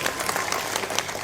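A crowd at a Maharashtra election rally claps in a short, dense burst of many hands, fairly loud and close, with no speech over it.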